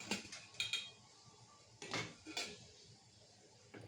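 Idli steamer pot handled and lifted off at home for a simple breakfast: a few light metallic clinks and clatters of the pot and plates, close but fairly soft, with quiet gaps between.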